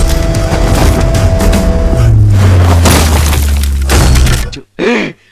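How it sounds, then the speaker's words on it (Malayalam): Gunfire from a Malayalam action movie scene: loud, dense bursts and booming shots with crashing debris over a continuous rumble, cutting out abruptly before one final short blast. "വെക്കടാ വെടി, വെക്കടാ വെടി"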